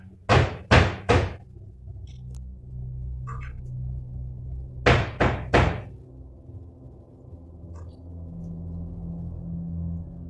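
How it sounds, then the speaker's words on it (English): Two bursts of three sharp knocks on a door, close and loud, separated by a few seconds of quiet low rumbling room tone, in a dark, tense setting. "The man stays still and doesn't investigate, even though there's a knocking sound."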